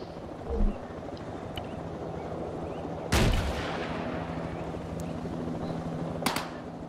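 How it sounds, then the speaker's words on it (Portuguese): Two heavy booming missile launches in the game Arma 3, one midway and one near the end, stand out over a low steady hum, with a few faint clicks between them. "Estão lançando míssil. Estão lançando míssil, ó."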